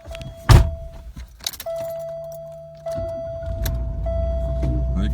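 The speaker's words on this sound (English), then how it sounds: "I'm going to close my door." A car door shuts with one sharp, close thunk early on, followed by a steady electronic chime and then an engine idling low underneath.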